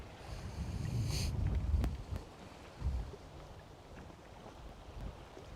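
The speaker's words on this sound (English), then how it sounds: "Starting to get a little breezier." Gusty wind buffets outdoors over open water while bass fishing, rumbling loudly at first and then easing into a softer steady whoosh with a couple of brief thumps.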